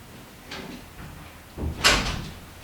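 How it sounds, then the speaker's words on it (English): An indoor door swings and is pushed shut, a soft rustle of movement followed by one sharper thud-like closing sound near the end. "I'm going to shut the door."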